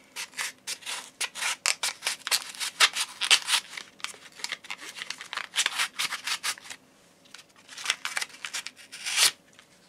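An Enlan EL-01 lock knife slices through a cardboard box in quick repeated close rasping strokes, a dense rhythmic scratching series with short pauses between bursts.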